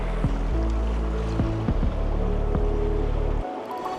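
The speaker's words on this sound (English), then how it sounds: "This is a good river." River water flowing past a rock in White River National Forest near Redstone, Colorado, a constant close rushing wash with a few low knocks and thumps, no voices.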